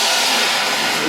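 A trash stack of cracked crash cymbals stacked on top of each other, struck and ringing as a dense, trashy wash of bright noise, loud and close with no pause across the short stretch.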